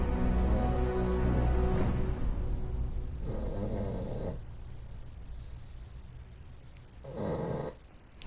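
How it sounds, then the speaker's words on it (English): A sleeping man snores in slow, heavy rasping breaths, two or three drawn-out snores separated by quieter pauses, close and alone without talk. "He is sleeping and snoring some logs."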